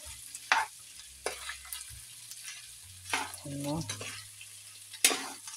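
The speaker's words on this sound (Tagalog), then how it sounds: "ilagay na natin yung sibuyas" Sliced white onions sizzle in a hot pan for pork sisig, the frying hiss broken by several scraping stirs of a utensil, close and moderately loud, with a brief spoken word.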